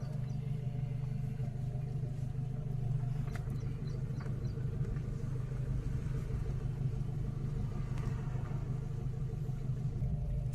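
A car on a driving-school lesson runs with a low, steady engine rumble from inside the cabin, constant and fairly quiet, with faint background sounds.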